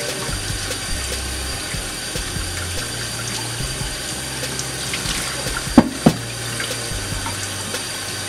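A tap runs steadily into a sink while a makeup sponge is wetted under it, a close, even rush of water with a couple of brief knocks near the end.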